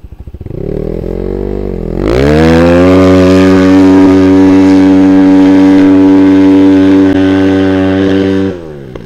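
A motorcycle engine in a winter forest idles, then revs up loudly and holds a steady, close, rumbling drone for several seconds before cutting off.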